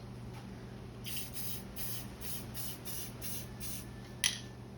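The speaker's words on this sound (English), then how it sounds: "if you have a gloss spray paint or just clear coat, use that nozzle" A spray can hisses in about eight short, even bursts, close and crisp, followed by a faint click.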